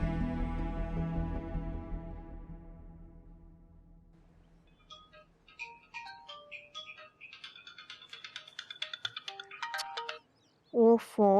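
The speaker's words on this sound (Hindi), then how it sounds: "अब ये शम्सा क्यों इस वक्त फोन कर रही है?" A melodic electronic phone ringtone plays a rising, chirpy tune after a fading musical passage, ending with a short burst of a voice.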